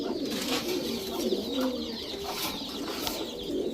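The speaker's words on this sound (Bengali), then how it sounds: "এটা হোয়াইট রেসার একটা মাদি কবুতর।" A white racer female pigeon coos softly and close by in a repeated, low, throaty pattern, with faint background noise and no talking.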